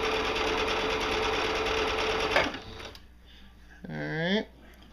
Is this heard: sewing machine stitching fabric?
yes